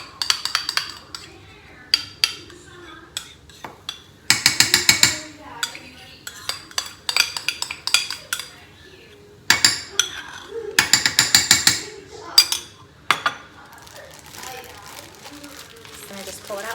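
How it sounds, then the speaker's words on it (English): Food scooped with a spoon into a Ziploc bag held upright in a glass: repeated clinks and scrapes come in several bursts, close and fairly loud, separated by quieter pauses, with a kitchen background. "So I'm taking a Ziploc bag and putting it in a glass like this, and then scooping this in here."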